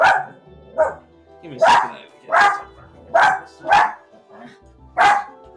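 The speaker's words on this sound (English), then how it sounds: "Stop barking." A dog barks repeatedly in a steady rhythm, about seven loud, close barks, while a person speaks briefly between them.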